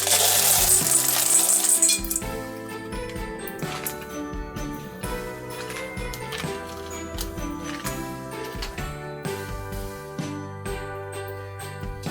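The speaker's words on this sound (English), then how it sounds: "Now we can go ahead and add our chocolate chips." Chocolate chips are poured into a pan while making chocolate-covered almonds, starting with a loud rattling, tinkling shower of small pieces that gives way to steady clinks and scraping.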